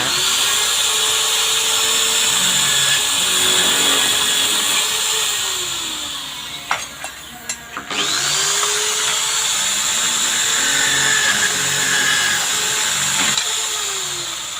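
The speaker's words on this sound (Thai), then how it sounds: "ขั้นตอนการเจาะนะครับผมให้ดูนะ" A power drill bores into metal furniture parts for a 120×60×80 build, its high whine rising and falling in long sustained runs, pausing midway with a few clanks before starting again, loud and close with no talk.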